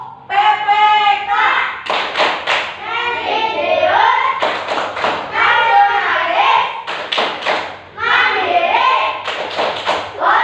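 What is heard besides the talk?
group clapping rhythm during a chant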